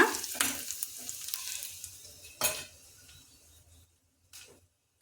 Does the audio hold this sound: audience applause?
no